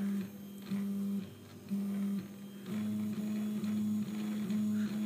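A Prusa Mendel 3D printer printing a small test cube hums steadily with repeated tonal stepper-motor whines that switch on and off in short segments, close and mechanical, with no talking.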